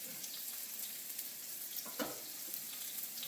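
Chopped onions fry in hot oil in a pan for egg foo young, a steady close crackling sizzle with a few sharper pops, no talking.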